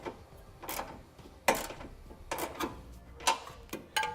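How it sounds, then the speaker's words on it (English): A ratchet tightening a hitch bolt on a 2016 Nissan Versa while a Curt trailer hitch receiver is installed. It gives several bursts of rapid clicking in short strokes, close and fairly quiet, with no talk over it. "You got plenty of room for your ratchet, and tighten it down."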